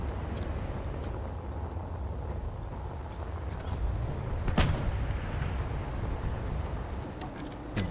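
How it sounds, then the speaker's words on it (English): Artillery fires in the video game Space Engineers during a tournament battle: a sharp boom lands about midway through, over a continuous low rumble of distant combat. "As you can see, there's some artillery being fired over there."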